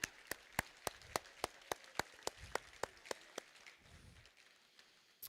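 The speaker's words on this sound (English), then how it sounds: "Give yourselves and each other a massive round of applause." A conference audience claps in unison, about sixteen sharp, evenly spaced claps in a steady rhythm. They are fairly faint and distant in a large room and trail off at the end.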